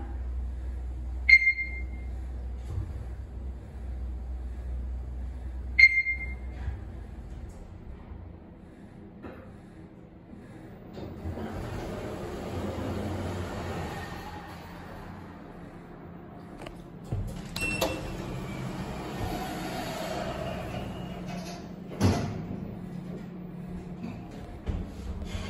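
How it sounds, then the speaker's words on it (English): A Schindler 3300 machine-room-less traction elevator in Raleigh, North Carolina, gives off a low steady hum and rumble, with two short chimes early on and door sliding and clunking sounds later, at moderate volume without talk. "This is the elevator at the 99, building 1"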